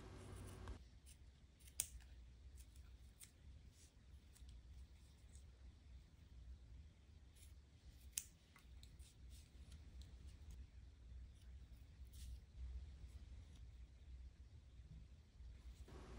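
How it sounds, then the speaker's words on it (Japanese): Faint, sparse snips and clicks of scissors cutting fabric for an embroidered brooch, with brief sharp cuts scattered over a quiet room background. "次は細かくハサミを入れてえー、ちょうどぴったりサイズになるように切り抜いていきます"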